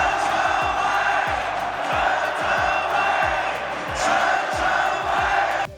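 Crowd of over 34,000 baseball fans at the Dome roaring together in a loud, sustained swell, with rhythmic thumping drumbeats pulsing steadily underneath.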